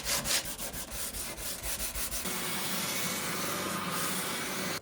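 Sanding and leveling the wooden fretboard of a vintage West German guitar, first in quick rhythmic back-and-forth strokes, then in a continuous close abrasive rasp with no talking.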